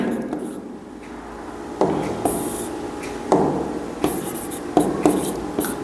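Chalk or marker strokes on a board during a chemistry lesson, a series of short scratchy scrapes in irregular bursts, close and moderately loud, with no speech over them.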